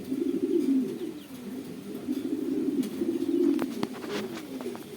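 Domestic pigeons of racer, satin and Sirazi breeds cooing close by in a steady, overlapping low throbbing chorus, with a few faint clicks and rustles near the end and no talking.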